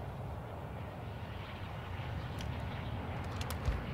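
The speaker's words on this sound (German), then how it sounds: "Eine Drohne. Starten." A drone launches and flies in Call of Duty Warzone 2.0, giving a steady droning engine hum that holds for several seconds and grows slightly louder, with a few faint clicks near the end.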